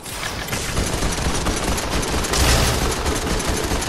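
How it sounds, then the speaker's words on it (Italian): Sustained automatic gunfire in Fortnite, a dense, unbroken rattle of shots that stays loud throughout and swells slightly midway, with no talking. "Oh, gente che spara."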